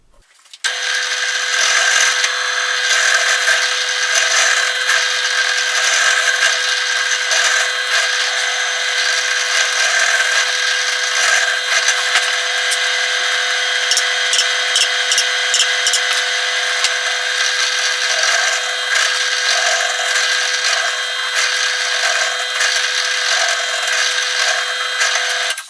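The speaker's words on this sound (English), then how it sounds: "so we can just drill through from the top and the bottom" Power drill boring string holes through a Telecaster guitar body from top and back, a steady, loud, continuous whine with a sustained tonal hum running nearly unbroken for the whole stretch.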